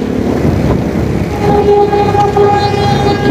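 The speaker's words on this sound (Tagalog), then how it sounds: "Nakahinto sa unahan dahil dumadaan yung tren ng PNR." A Philippine National Railways train rumbles past at close range in Manila with a broad, steady roar, while a sustained high tonal whine, like a horn or wheel squeal, rises partway through.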